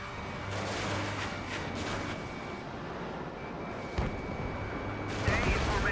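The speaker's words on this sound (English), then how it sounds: "Missile launched." Missile launches and explosions in the Ace Combat 7 flight combat game, with an F-16F Block 60 in the fight. Distant rumbling booms and blasts sit under continuous engine roar, with a sharper hit near the end.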